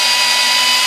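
A power mixing tool churns thick primer, giving a loud, steady motor whine with a constant hum that holds unbroken and close throughout.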